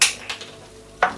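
A spoon clinks and scrapes against a bowl while ricotta and spinach are stirred together. Three short, bright knocks come close and loud, with quiet scraping between them.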